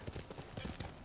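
A horse's hooves clip-clop at a steady, quick pace while it is ridden in the samurai adventure game Ghost of Tsushima, the beats close and fairly soft.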